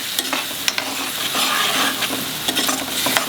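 Chopped tomato frying in a pan over a reduced flame, a close, steady sizzle broken by several sharp stirring scrapes, with no voices.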